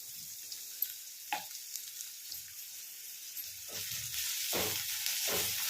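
Onions and green chilies fry in a hot pan, a steady sizzle that grows louder toward the end, with a few stirring scrapes and clinks of a utensil breaking through the hiss.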